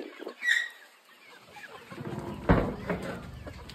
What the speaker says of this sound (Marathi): आपली पिल्ले दाखवते मी तुम्हाला.